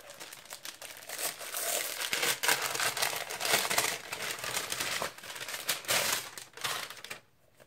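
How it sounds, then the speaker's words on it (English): Damask wrapping paper being torn and crinkled off a book, a close, busy stream of rustles, crackles and rips that rise and fall in bursts before stopping. "it's wrapped in damask wrapping paper"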